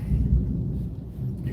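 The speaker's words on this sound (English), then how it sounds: "you can hear the thunder." Thunder from a storm in Tennessee, a deep, low rumble rolling steadily through the whole short stretch without other sounds on top.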